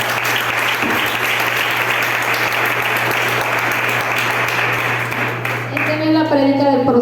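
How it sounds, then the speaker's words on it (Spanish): A church congregation breaks into loud, continuous applause that fills most of the stretch, then gives way to a voice speaking at the very end. "Un aplauso para el Señor."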